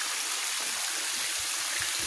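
Water gushes steadily from a pipe into a concrete fishpond, a continuous hissing rush with a few low splashy thuds near the end.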